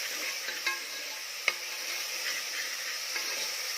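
Ginger garlic paste frying with onions in a pan for a Kolhapuri mutton curry, a continuous moderate sizzle with occasional spoon taps and scrapes, one sharper knock standing out midway.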